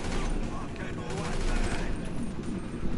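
Rapid gunfire rings out in GTA Online, a dense, loud, continuous fusillade of shots and automatic fire throughout, mixed with a busy game soundscape.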